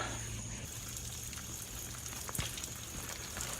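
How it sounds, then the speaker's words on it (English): Water sprinkles and patters onto a freshly prepared garden bed at dusk, a steady soft hiss of droplets with a few sharper splashes and no talking. "And now I'm gonna water."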